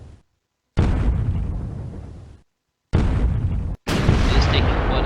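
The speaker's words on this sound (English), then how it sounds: "So now both of our ships are now firing." Naval guns fire in the strategy game Command: Shifting Sands, with several loud, sustained blasts of broadband roar separated by short silences, one following right after another near the end.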